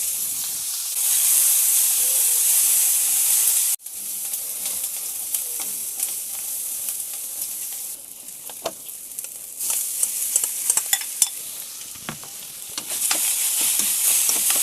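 Small shallots sauté in a hot pan for fish cutlets, a loud, bright sizzle broken by a sudden drop and occasional stirring clicks and scrapes before the frying hiss swells again, with no voices.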